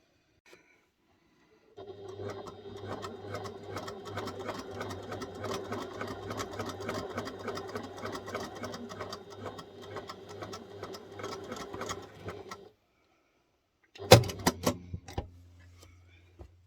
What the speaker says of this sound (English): And I'm just going to stitch along there